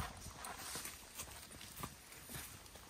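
A pony trots outdoors in wind, its hooves clip-clopping in a quick irregular rhythm, faint and somewhat distant under a broad wind-like hiss.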